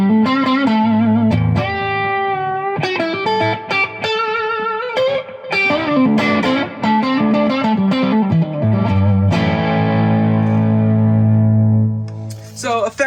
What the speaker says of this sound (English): I have a Strymon Blue Sky for the reverb. I've got a MXR Echoplex for a little bit of that delay action.